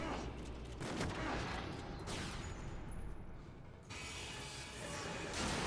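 Weapon reloading in Silent Hill Downpour: clicking, ratcheting mechanical sounds over a thick game noise bed, with a brief lull partway through before the clatter resumes.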